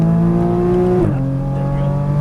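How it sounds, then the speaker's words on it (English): A Porsche Cayman GTS accelerates under throttle on a cone course, its engine droning loud and steady with strong harmonics. Around the one-second mark the pitch dips briefly, then settles into a lower, sustained tone. "once we get to that cone, we're going to start turning in. A little bit tighter, and now start squeezing on that throttle."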